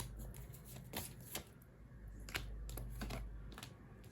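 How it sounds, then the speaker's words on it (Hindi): Tarot cards are shuffled close up in a quiet room, giving soft papery riffles and crisp flicking bursts in short irregular clusters. "पहले कार्ड्स निकाल लेती हूँ"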